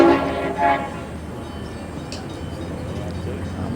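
A passing train sounds its horn near a riverside bowling club at Moama, New South Wales: two short distant blasts at the start, followed by steady low rumble and faint ambient noise.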